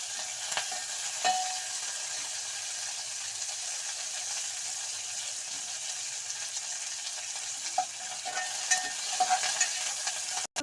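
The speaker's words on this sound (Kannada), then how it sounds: "ಕರಿಬೇವು ಎಲ್ಲ ಚೆನ್ನಾಗಿ ಫ್ರೈ ಆಗಲಿ" Curry leaves fry in hot oil in a pan for curry chicken, a steady close sizzle broken by occasional scrapes and taps of the stirring spoon, with no talk.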